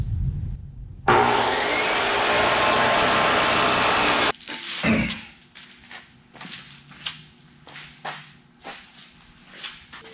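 A power saw cuts through heavy 3x3 steel square tubing with quarter-inch walls, a loud, steady high whine for about three seconds, then stopping and giving way to scattered clanks and handling noises nearby.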